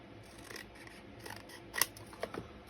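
Quiet scissor snips trimming paper for a handmade garden journal, with a few soft rustles and then two or three crisp cuts close by near the end.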